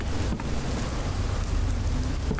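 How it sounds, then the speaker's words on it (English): Heavy storm rain from a horror video game set at a forest fire lookout tower, a dense, loud, continuous hiss of downpour with a low rumbling undertone, steady throughout and without voices. "It's storming. It's a storm out there. It's raining really hard out there."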